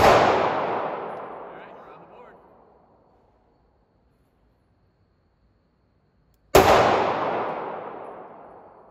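Two loud pistol shots from a Ruger MAX-9 fired at an outdoor shooting range, several seconds apart, each with a sharp crack followed by a long, fading reverberant tail.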